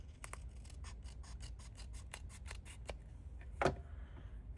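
Scissors trim paper for a handmade journal, making a steady run of about fifteen quick crisp snips close by, then a single louder cut after a short pause. Nobody speaks.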